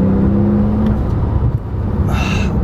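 A 2017 Porsche 911 Turbo S Exclusive Series engine revs hard after a downshift, a loud, close, steady roar with a brief higher whine near the end.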